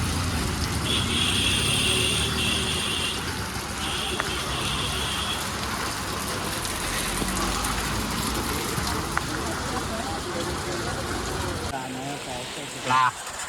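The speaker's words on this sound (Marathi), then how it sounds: "लय पाऊस आहे इकडे बघा एकदम भयानक पाऊस" Heavy, constant monsoon rain pouring down in a continuous roar over a market in Ulhasnagar, Mumbai, with voices talking beneath it and occasional traffic.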